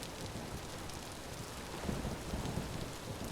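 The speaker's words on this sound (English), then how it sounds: "I want to get out of this storm." Heavy rain hisses steadily during a thunderstorm in the Vintage Story video game, a dense even wash with low rumbling swells of thunder midway, no speech over it.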